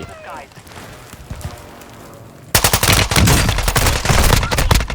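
TR-76 rifle gunfire in the video game Call of Duty Warzone 2.0: quieter scattered game sounds give way to loud rapid bursts of close shots with brief gaps, while a voice talks over the first part.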